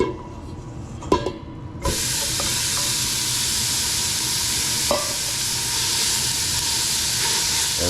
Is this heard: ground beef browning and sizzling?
yes